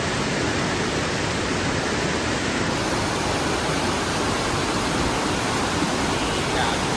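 Floodwater from an overflowing Shamirpet lake roars in a loud, unbroken wash of noise, like a strong current pouring past nearby.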